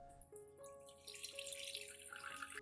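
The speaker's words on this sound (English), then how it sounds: "I will strain out all of the rice residue and keep only the clear rice water for use." Cooled rice water being strained to remove the rice residue, a steady trickling pour of liquid running through a strainer, close and fairly quiet with a constant flowing wash.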